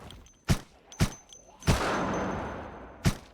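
Gunshots fired indoors in the video game Project Zomboid, four loud, close single cracks spaced irregularly, the third followed by a long reverberant tail.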